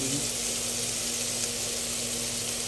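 Shrimp paste (alamang) frying in plenty of cooking oil for a pork sauté, giving a steady, close, continuous sizzle with a broad hiss throughout and no talk.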